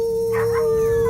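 A dog howls in the middle of the night in a Telugu film scene: one loud, sustained, steady-pitched wail fills the whole moment, with no talk over it.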